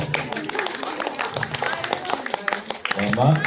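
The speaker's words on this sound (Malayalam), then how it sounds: "എല്ലാവരും ഒന്ന് കൈയടിച്ച് പ്രോത്സാഹനം കൊടുക്കാതെ" Family members clap at a home get-together: scattered, uneven hand claps run throughout at moderate loudness while people talk over them.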